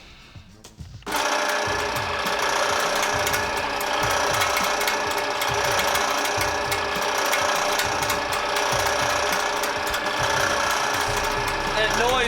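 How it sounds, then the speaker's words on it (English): A drill press with a bent belt shroud starts up and runs steadily, with a loud whirring drone and a rapid rhythmic rattling tick from the shroud rubbing, continuous and close. "That noise in my drill press is my belt shroud."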